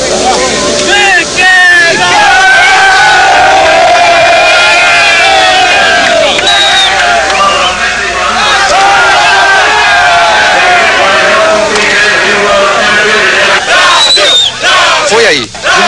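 Large crowd cheering and shouting at a 1982 Formula 1 race as the champion driver walks to the podium, a loud continuous roar of voices with whistles, steady for the whole stretch.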